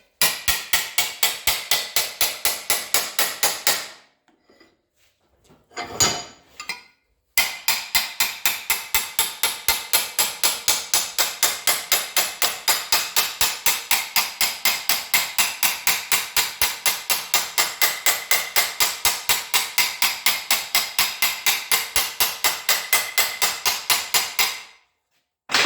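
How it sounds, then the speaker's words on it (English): Rapid, steady metal hammering with an old masonry hammer, close and loud, striking many times a second with a short pause partway through before resuming. "I put that into there, and I just start hammering it"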